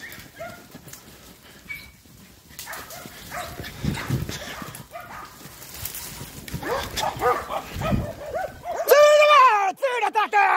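Romanian shepherd dogs guarding a flock of sheep bark at a bear, sparse at first, then in a loud, close burst of yelping barks near the end. Excited human voices can be heard among them.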